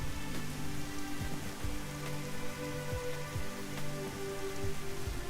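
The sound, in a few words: rain in the video game Dig or Die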